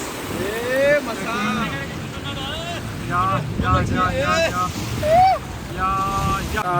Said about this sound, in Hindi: यहाँ हमारी बोट आई हुई है